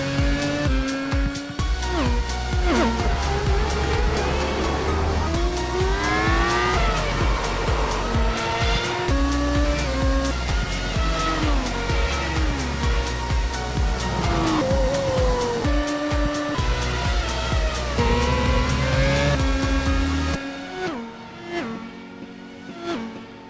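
Race cars in the iRacing game at Daytona roar continuously, engine tones rising and falling as the field rushes through a corner together; the loud, dense engine noise thins near the end.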